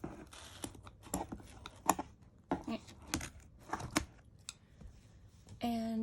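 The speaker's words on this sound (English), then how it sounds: "I cut off the elastic from here" Scissors snipping through elastic on an art journal's spine, a series of short crisp cuts spread across the clip, close and fairly quiet, with a brief rustle of handling at the end.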